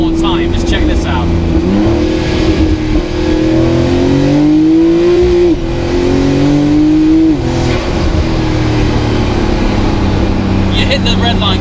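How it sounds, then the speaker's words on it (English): The 780 hp Fenyr Supersport's 3.8-litre twin-turbo engine revving hard, a loud, close exhaust note rising and falling through repeated quick climbs toward the red line, with a brief pause before a final burst. "For a turbo car, it actually revs very fast."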